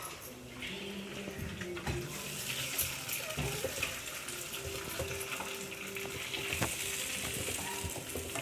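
Grated carrot and cracked egg frying in a pan for carrot egg fried rice, an even sizzling hiss with occasional stirring knocks, heard fairly close with no talking.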